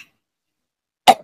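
A single sharp cough from someone speaking on camera, one short burst after a moment of silence.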